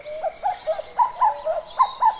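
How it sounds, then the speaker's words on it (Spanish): A common cuckoo calls near Balsaín in Spain, clear two-note phrases repeated in quick succession, close and loud against a quiet background. "Durante el fin de semana han llegado a Balsaín los primeros cucos"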